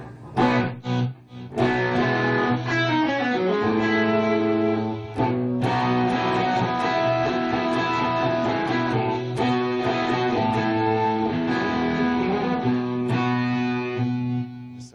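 A guitarist plays a dirty rhythm electric guitar through a digital delay and a flanger, distorted chords and notes ringing out with swirling modulation and echoing repeats that sustain and decay between phrases.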